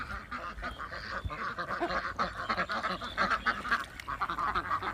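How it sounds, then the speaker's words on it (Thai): A flock of young ducks, about two months old, on a duck farm, quacking and honking continuously in overlapping calls, close and fairly loud. "เป็ดสองเดือนของฉันอยู่ไหนคะ"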